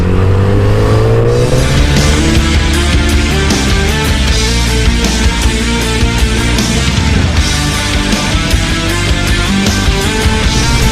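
A Volvo S60 sedan drives past, its engine rising in pitch at first and then holding a loud, steady rumble with road and tyre noise for about eleven seconds, with no voices.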